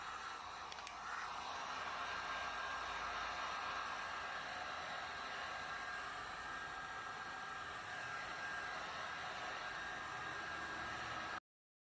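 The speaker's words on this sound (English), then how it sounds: "I'm going to use a heat gun to heat up the double-sided tape so it's nice and sticky" A heat gun blows hot air onto double-sided tape while a carbon fiber spoiler is fitted to a Mercedes C300 W205, a steady close hiss and whir running unbroken before cutting off at the end.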